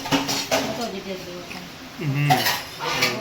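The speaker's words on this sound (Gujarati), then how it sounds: "કોમલ વાસણ ધોવાય" Dishes and cutlery clink and clatter during washing, with a person talking over much of it nearby while rain falls outside.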